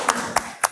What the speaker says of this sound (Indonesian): Oke, tepuk tangan tuh kelompok 1.